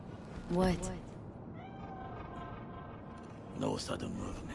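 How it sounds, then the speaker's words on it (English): A cat in the video game's Night City lets out two clear, close meows a few seconds apart, the first louder and more drawn out, over a steady ambient background with voices nearby. "Do you see it? That cat? Fine-looking feline."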